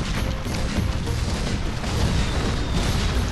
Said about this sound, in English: And they've got another cannon.